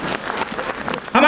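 A conference audience in a Lucknow auditorium breaks into loud applause at the very end, right after a man addresses the crowd over a public address system.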